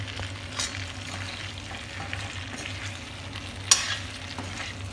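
Potatoes fry in a brinjal masala with a soft steady sizzle and a low hum, while an occasional stirring scrape and one sharp clink stand out, and no one speaks.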